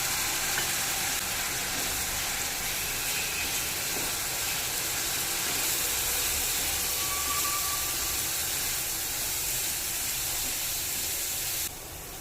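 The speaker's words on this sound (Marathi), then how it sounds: "मसाले छान परतून झालेत आपले" Spice masala sautés in hot oil in a pan, producing a soft, even hiss and sizzle that holds steady before dropping slightly at the very end.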